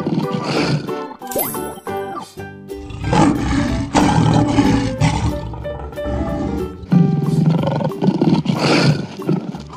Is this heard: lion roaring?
yes